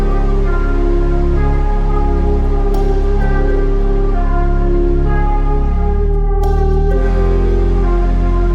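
A music sample run through the Paradise Guitar Studio guitar-effects plugin and reverb, playing as a dense, loud, sustained tonal loop with deep low end and a brief brighter accent near the end, no voices.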